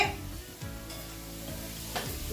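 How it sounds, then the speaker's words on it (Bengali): Potatoes and eggplant frying in a home kitchen pan, a steady close sizzle with periodic scraping stirs throughout. "একটু ভেজে তুলেছি আবার এখানে একটু আলু ভাজা হচ্ছে আর তার সঙ্গে বেগুন ভাজা"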